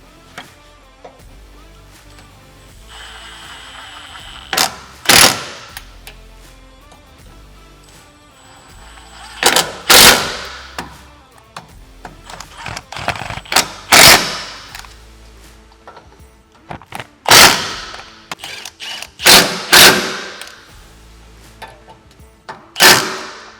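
Ratchet tightening the clamps of a SuperATV Hood Rack Charlie on a Honda Pioneer 1000-6, heard as sharp clicking bursts at irregular intervals, fairly close and loud with quiet gaps between.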